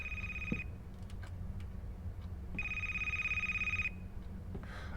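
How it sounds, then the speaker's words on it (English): A telephone rings in the video game A Place, Forbidden, giving two electronic trilling bursts separated by a pause, moderately faint over a low background hum. "Oh, here's the phone."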